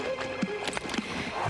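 A horse clip-clops with uneven, squelching hoofbeats while struggling through a muddy marsh, loud and close, with faint voices in the background.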